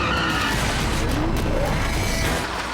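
A car skids during a Casino Royale stunt scene: a loud, sustained tyre-and-engine roar with faint squealing tones sweeping through it for about three seconds.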